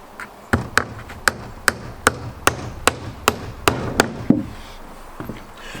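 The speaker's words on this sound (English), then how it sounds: "thought you might want to see me nail on that last board" Hammer strikes driving nails into a board on a cabin, about a dozen sharp, evenly spaced blows ringing out close and loud, then a quieter pause at the end.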